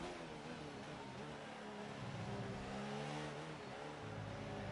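An F1 race car engine in a racing sim during a Canadian Grand Prix esports round: a steady, smooth, mildly raspy high-revving drone holds throughout, with slight pitch dips as the car shifts and brakes.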